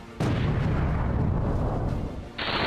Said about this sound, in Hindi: एक धमाका और आसमान में काले धुएं का गुबार उठने लगा।